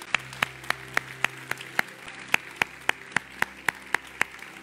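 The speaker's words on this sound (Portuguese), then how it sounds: "Vamos aplaudir a Ele," A church congregation claps in unison, about fifteen sharp, evenly spaced beats forming a steady rhythmic pulse, moderately loud with a soft room murmur beneath.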